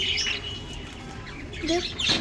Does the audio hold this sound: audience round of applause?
no